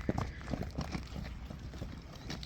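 A horse walks over the ground with a series of soft, fairly quick hoof clops close by but faint, a steady uneven rhythm over a low background.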